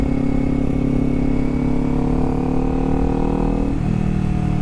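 A small Honda motorcycle engine runs steadily up close, a loud continuous mid-pitched hum with a slight shift in tone near the end.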